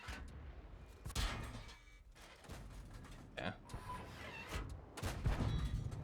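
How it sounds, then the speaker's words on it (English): Gunfire in a vehicle combat video game comes as several short, punchy bursts spread across the moment, mixed with thuds and rumbling, while a person talks over it. "need to stop shooting"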